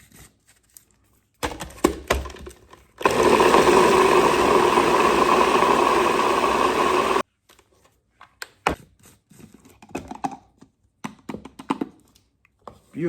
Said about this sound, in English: I'm using my blender attachment